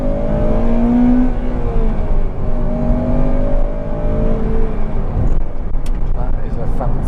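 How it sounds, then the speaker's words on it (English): A Honda Civic Type R GT with a 2.0 i-VTEC engine drives along, a steady loud engine drone with rising and falling pitch as it accelerates, heard under someone talking. "That is a fantastic engine."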